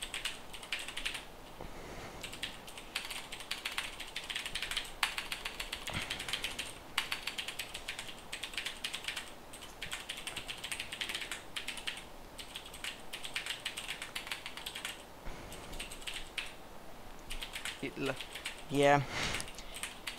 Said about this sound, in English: So I'm going to type description.